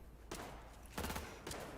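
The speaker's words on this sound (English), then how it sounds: "There's some gunshots." Bursts of gunfire in the video game Cyberpunk 2077 come in three short volleys, each a sharp cluster of shots, fairly faint and set against a quiet game background.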